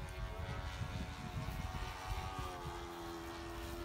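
Piper light aircraft making a low pass, its steady propeller-engine drone holding loud and continuous with a faint tonal whine, broad rumble and some wind noise throughout.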